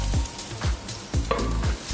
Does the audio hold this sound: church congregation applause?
no